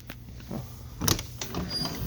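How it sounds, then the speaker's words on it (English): Door of a 2018 Thor Ace 29.3 motorhome opening, followed by the whir of its automatic step motor extending, with a thump near the middle; fairly quiet and close, no talking. "Open the door. The step automatically comes out."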